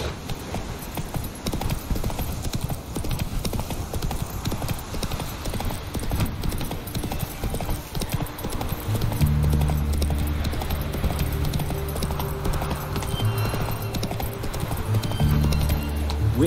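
Roach, Geralt's horse in The Witcher 3: Wild Hunt, gallops with steady, continuous hoofbeats at close range, while a low droning tone joins in over the second half.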